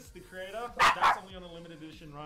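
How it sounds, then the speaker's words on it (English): A dog barks twice sharply, fairly close, while a person keeps talking over it. "Don't mind me, that's my dog."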